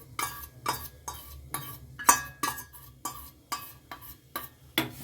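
A spoon stirring milk and cornflour in a metal pot, scraping against the sides in a steady rhythm of about two strokes per second, close and clear with faint clinks and no talking.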